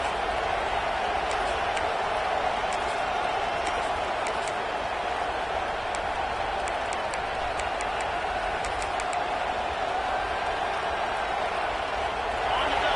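A dense, steady roar of a large football crowd fills the whole stretch, constant and loud with no pauses, like stadium cheering heard from within the stands.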